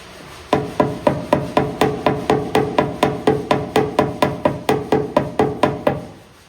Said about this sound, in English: we'll tap our areas down with the body hammer